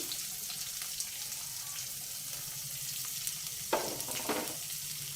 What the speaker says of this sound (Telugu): వేసేసుకొని వేయించుకోవాలి